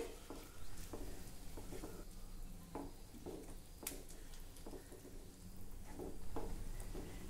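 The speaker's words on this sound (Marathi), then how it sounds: "हे अंबाडीच्या पानांना व्यवस्थित उकळी आली" Ambadi (roselle) leaves bubbling in a pot of boiling water in a home kitchen, a faint continuous simmer broken by soft clinks and stirring knocks of a utensil against the vessel.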